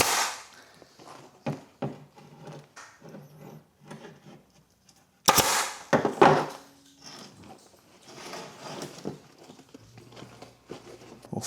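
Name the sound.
staple gun stapling dirt bike seat cover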